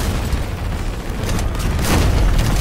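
Bomb explosions in Crossout's Steel Troopers event rumble as a loud, continuous low roar of booms and bursts, swelling near the end.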